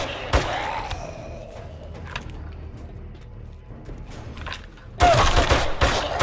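Scattered gunshots sound in 7 Days to Die amid creaks and clatter, faint and sparse at first, then a loud dense burst of firing near the end, with shouting voices.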